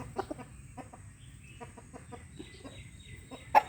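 A young, large rooster clucking in a farm pen: a series of short, soft clucks spaced irregularly over a quiet background, with a brief louder call near the end.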